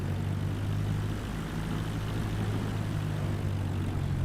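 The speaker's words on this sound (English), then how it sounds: "So you're gonna go and get the aircraft parked now." A small general aviation aircraft taxiing to parking, a steady droning propeller engine with a low hum held evenly and close throughout, no voices.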